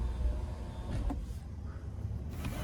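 Power sunroof and shade motor whirring in a 2024 Buick Enclave Avenir AWD, a low, faint electric hum under steady cabin road rumble, with short mechanical clicks as the panel moves.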